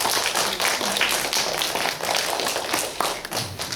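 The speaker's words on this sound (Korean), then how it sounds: "우리 박수로." A church congregation claps together to thank their small-group leaders, a loud, slightly uneven patter of many hands with a sharper tapping texture, heard close.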